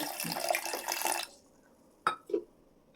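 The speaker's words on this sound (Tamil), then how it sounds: "இந்த பட்டாணி மூழ்கிற அளவுக்கு தண்ணி சேர்த்துக்கிறோங்க" Water runs steadily over peas in a pressure cooker for about a second, then stops, followed by two brief splashes or drips; close and fairly quiet, with no talking.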